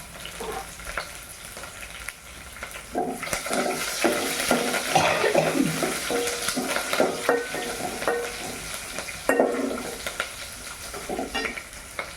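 Onion and curry leaves fry in a pan for a greens curry, a soft sizzle under irregular spatula scrapes and clatters that grow louder after the first few seconds, with faint watery sounds and no talk.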